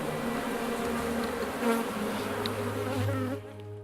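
Bees buzz around their hive in a dense, continuous drone close by, swelling slightly before fading near the end.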